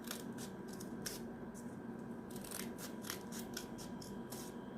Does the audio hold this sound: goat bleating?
no